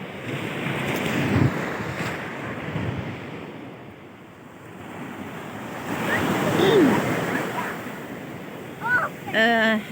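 Sea waves at Alexandria wash and surge in a steady broad roar with wind buffeting the microphone, swelling and easing over ten seconds, with a faint voice near the end.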